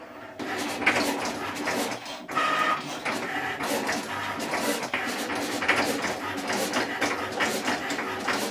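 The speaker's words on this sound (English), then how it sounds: "Now I'm using my very favorite Cricut Maker 3 and the Cricut Design Space" A Cricut Maker 3 cutting machine at work, producing a busy mechanical whir with repeated short clicks and carriage movements at moderate volume, with no voices.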